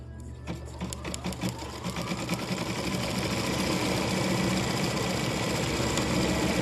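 A Baby Lock Altair 2 embroidery machine stitches an in-the-hoop treat bag, its steady rapid needle chatter rising after a brief start and running loud and continuous without talk.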